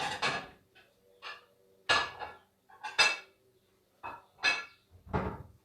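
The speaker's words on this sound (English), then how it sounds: "I'm going to get my plates out." Plates are taken out one by one in a kitchen, giving several sharp ceramic clatters and knocks with short pauses between them, close and distinct, with no speech.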